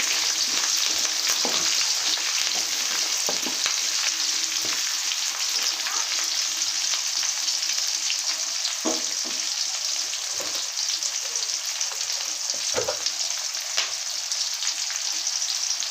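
Chopped onion and plenty of curry leaves frying in hot oil for a Rayalaseema-style fish curry, a loud, continuous close-up sizzle with scattered crackles and occasional stirring knocks, no voices.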